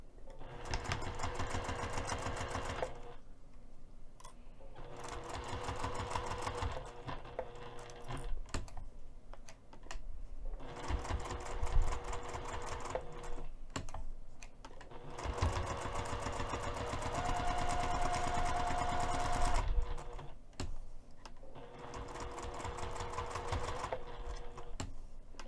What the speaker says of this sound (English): we're going to take this over to the sewing machine and we're going to sew the entire outer edge of the tab